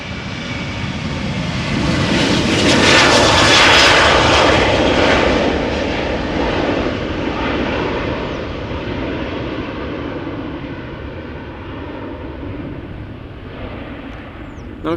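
Airplane departing from runway 36L, the Polderbaan, at Amsterdam Schiphol, a loud broad engine roar that swells to a peak and then slowly fades as it climbs away.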